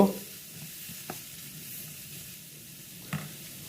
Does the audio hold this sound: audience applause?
no